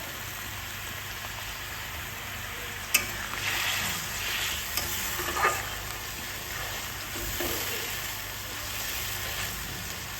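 Spices frying in a pan with a splash of water added, a soft steady sizzle with light stirring scrapes and a few brief clinks, fairly faint and alone without talk.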